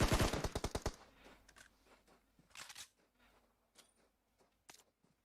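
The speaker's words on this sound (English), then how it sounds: "Long distance shots coming in." Rapid burst of automatic gunfire in an online shooter match, a quick run of sharp evenly spaced cracks at the start, then scattered fainter distant shots and clicks, fairly quiet overall with no talk.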